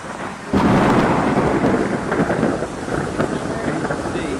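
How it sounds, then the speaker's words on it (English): Loud crackling thunder rolls in during Hurricane Melissa in Montego Bay, Jamaica, breaking in after half a second and rumbling on over a steady wash of heavy rain and wind buffeting the microphone. "The loud crackling thunder came out."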